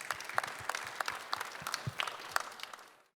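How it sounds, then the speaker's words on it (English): Audience applause for conference panelists at a global business event, a steady patter of many hands clapping through the room, moderately loud and fading out at the end. "If we can give a round of applause for our panelists."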